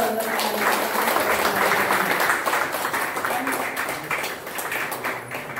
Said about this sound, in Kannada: ಈ ಕಾರ್ಯಕ್ರಮಕ್ಕೆ ಜೋರಾದ ಚಪ್ಪಾಳೆ ಮೂಲಕ